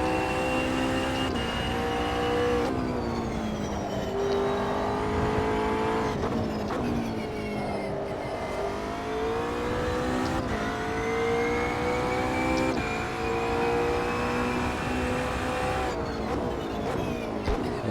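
A McLaren 720S GT3 race car engine howls in Assetto Corsa Competizione, rising and falling through repeated upshifts and downshifts with strong harmonic tones, loud and steady across a long stretch with no talking.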